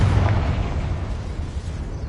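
A Confringo fire spell explodes in Hogwarts Legacy, a deep, rumbling blast that starts loud and then rolls off into a dense, crackling decay over about two seconds.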